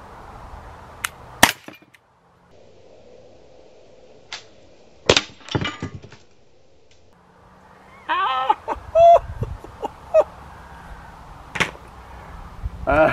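Umarex HDP 50 pistol fired at a target outdoors, several sharp isolated cracks and impacts with gaps between them, followed by faint metallic ringing and some movement noise.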